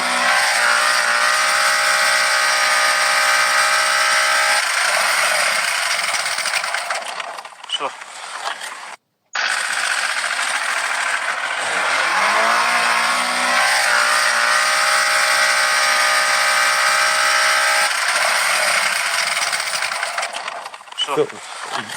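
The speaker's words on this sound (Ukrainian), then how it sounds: "дав 6-7 тисяч обертів і просто застукав двигун" A 2007 Peugeot 206 engine idles roughly after being revved to around 7000 rpm cold, with a steady mechanical drone and metallic ticking, a brief dropout, then a sustained harsh running tone while someone talks over it.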